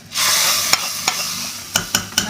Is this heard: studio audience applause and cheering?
no